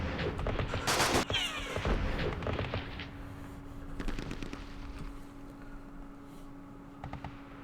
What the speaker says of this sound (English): Guys, we'll get another couple of shots off